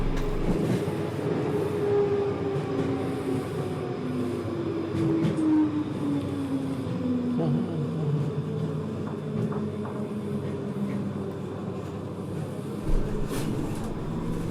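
A tram on a fast-tram track in Poznań, Poland rolls along with a steady rumble, wheels whining and squealing in long gliding tones, punctuated by occasional clanks and a thud near the end.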